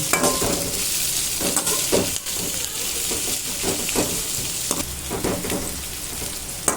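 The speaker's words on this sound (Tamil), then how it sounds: "பெரிய வெங்காயத்தை நல்லா வதக்கி விட்டுக்கோங்க" Steady, dense sizzling of onions frying in a pan, with occasional stirring scrapes and clinks throughout, close and continuous.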